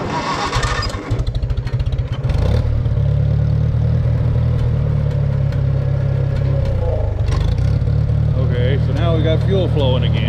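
Farmall 140 tractor engine cranking with a rapid chugging rhythm, then catching and running as a loud, steady close-up idle, with faint voices near the end.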